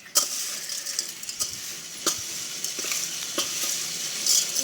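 Masala mixture with Maggi masala being stirred in a pan, soft sizzling with occasional spoon scrapes and light metal clinks, fairly quiet and alone.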